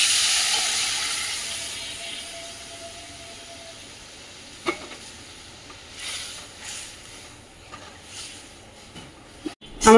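Mango pieces fry in a pan with turmeric and salt, giving a faint, low sizzle and hiss with a few soft clinks and scrapes of stirring.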